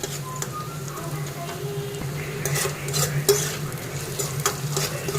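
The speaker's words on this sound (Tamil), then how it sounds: "வெங்காயம் போட்டு வதக்கிறப்ப லைட்டாக சால்ட்டு போட்டு வதக்குனிங்கன்னா நல்லா குக் ஆகும்" Onions sauté in a pan, sizzling softly while a utensil stirs and scrapes at a steady pace.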